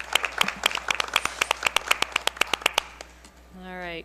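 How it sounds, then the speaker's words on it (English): Audience applause for families and kids at a school board meeting, a run of sharp, fairly sparse claps for about three seconds before a voice begins speaking. "Round of applause to the families and the kids."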